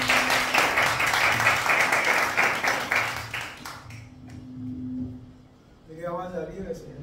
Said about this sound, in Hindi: आप लोग ताली बजाते हुए हम साथ को स्वागत करें।